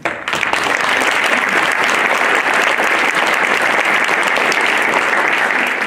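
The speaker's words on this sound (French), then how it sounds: "on peut les applaudir tous ensemble" A packed hall at a mayor's New Year ceremony in Isola breaks into loud, sustained applause for the volunteers, dense steady clapping from start to finish with no talk.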